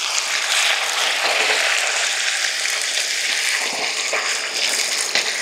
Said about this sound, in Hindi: तो सबसे पहले हमने इसको 2 से 3 मिनट फ्राई करना है चिकन को